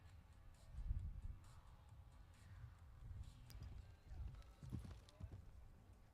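Horse hooves clip-clop across a show jumping arena as a Dutch-bred mare is brought in for a 1.35m National Prix class, steady muffled footfalls under a continuous commentator's voice.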